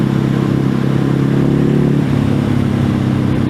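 A Ducati Hypermotard 950 SP motorcycle engine runs loud and close, holding a steady rumbling revving drone that dips slightly partway through, with no voices.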